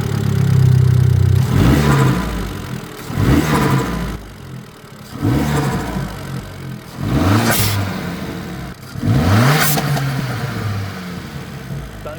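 Abarth 595 fitted with an induction kit, revved while stationary: four or five sharp blips rise and fall back to a rumbling idle in a regular rhythm, loud and close.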